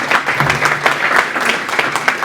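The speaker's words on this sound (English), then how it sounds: "Give Michael a round of applause." A quick burst of audience applause at a tech startup meetup as Michael Pope is welcomed to the stage, many hands clapping briskly and fairly loud throughout.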